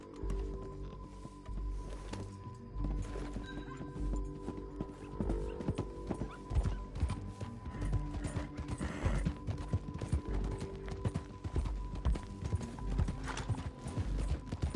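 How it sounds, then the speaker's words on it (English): In a video game, a steady clip-clop of horse hooves on ground continues throughout, with occasional mechanical clinks and a horse snorting in the mix. "Get back on your horse, John."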